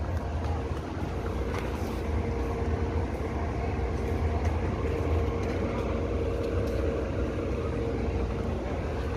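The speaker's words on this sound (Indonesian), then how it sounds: "bus terbaru bosku" A new Mewah Perdana bus runs at a Solo terminal, a steady low engine rumble that stays constant and close, with faint voices and occasional clanks around it.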